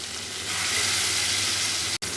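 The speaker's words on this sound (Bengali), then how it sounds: "এক এক করে সমস্ত মাছ আমি ভেজে নেব হালকাভাবে বেশি কড়া ভাজবো না" Hilsa fish fries lightly in hot oil with a brief, even sizzling hiss close by, broken by a momentary dropout near the end.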